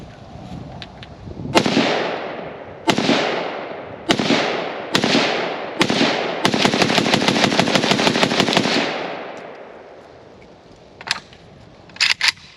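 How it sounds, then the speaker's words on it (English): Rifle gunfire at a shooting range, from a KUSA KP-104 AK-pattern rifle and similar guns: loud, close single shots spaced a second or so apart, then a long rapid burst of fire, followed by a couple of final shots with ringing echoes. "Since we've been shooting the KP-104 all afternoon, kind of seemed interested to bring the Wasser 10 Para back out."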